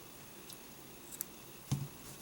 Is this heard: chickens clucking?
no